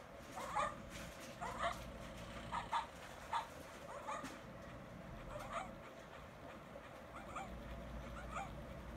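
Jack, a Shetland sheepdog, gives a run of short yips and whimpers at moderate distance, the squeaky calls coming in uneven bursts over a steady low room hum.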